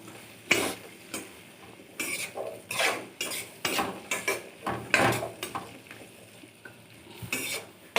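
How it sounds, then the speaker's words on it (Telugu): Ivy gourd pieces being stirred in a pan, with repeated scraping and clattering strokes of a spoon against the metal in an uneven rhythm over a light sizzle, close and fairly loud. "దొండకాయలన్నీ ఇప్పుడు ఒకసారి మంచిగా కలుపుకొని"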